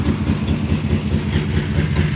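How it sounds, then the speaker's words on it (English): A 1969 Dodge Charger with a 440 cubic inch V8 idles close by with an exhaust leak near the muffler outlet, producing a steady, loud, low, pulsing rumble with a rough, chuffing rhythm and no talking. "but it's got an exhaust leak back here"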